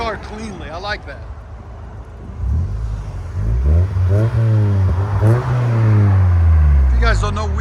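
Close and loud, a 1995 Acura Integra 5-speed fitted with a Yonaka Motorsports exhaust idles, then blips its engine a few times before one long sustained rev that rises and holds near the end.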